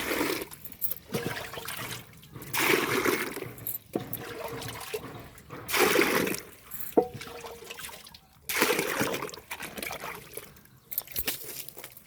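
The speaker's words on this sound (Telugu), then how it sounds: "మాకు నల్ల వస్తుంది ఇక్కడ నీళ్ళకి" Tap water runs in uneven surges, rising and falling several times over a dozen seconds at moderate loudness, with splashing flow and no clear talk.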